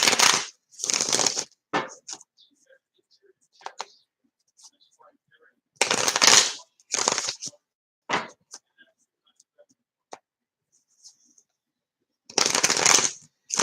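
Tarot cards are shuffled in several loud, close riffling bursts separated by quiet gaps, with small taps and card handling sounds between them and no speech over the shuffles.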